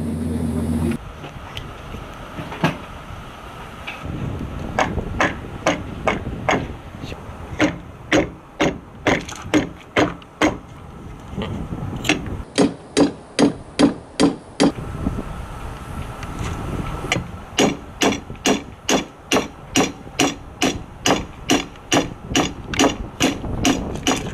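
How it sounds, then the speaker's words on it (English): Sharp metallic hammer blows driving a boat propeller shaft into its coupling aboard a yacht, delivered in rapid rhythmic runs of dozens of close, loud taps with short pauses between bursts, over faint background wind noise. "We're gonna give the shaft a little tappy, and to meet the coupling so we can bolt it all together."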